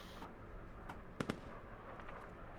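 Airsoft M4 and AK rifles fire at a training session, with two sharp close pops just after the middle and a few fainter cracks around them, over quiet outdoor background.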